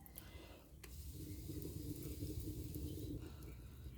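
A pot of ginataang buwad, dried fish simmering in coconut milk with eggplant, moringa and sweet potato leaves, keeps up a soft steady bubbling and sizzling hiss at low volume.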